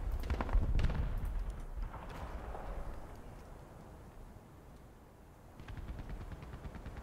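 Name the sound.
cannon fire in War Thunder video game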